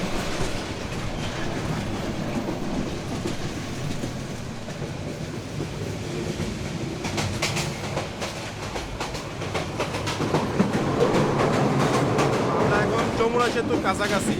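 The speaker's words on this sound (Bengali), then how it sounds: "আরেক পাশে হচ্ছে ট্রেন যাচ্ছে," A train runs past on the Kurigram Express route, with a road on one side. A loud, continuous rumble and rattling clatter of wheels builds and grows stronger toward the end.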